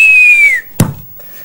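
A single loud, shrill whistle held steady and then sliding downward in pitch, live in a TV studio, followed by a sharp fist thump on a table and brief quiet.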